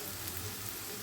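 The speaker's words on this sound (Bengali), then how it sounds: "আমি এগুলোকে মিডিয়াম ফ্লেমে ফ্রাই করব।" Prawns frying on a medium flame for a Bengali prawn curry, giving a steady, even sizzle that is close and continuous through the whole short moment, with no other sounds.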